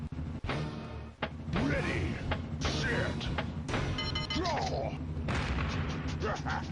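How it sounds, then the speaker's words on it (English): Gunfight sound effects from a Cactus Canyon pinball machine, several sharp shot bursts over busy machine chimes and music, with short pauses between them and a voice talking during play. "Looks like a gunfight."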